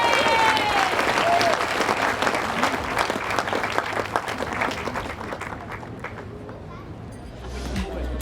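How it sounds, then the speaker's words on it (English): A crowd gives a sustained round of applause for the women's triples champions at a World Bowls Championships final, Australia v New Zealand, with the clapping thinning slightly toward the end and a voice briefly audible. "Please give another massive round of applause for our women's triples champions."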